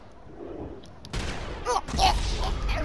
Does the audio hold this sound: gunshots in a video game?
yes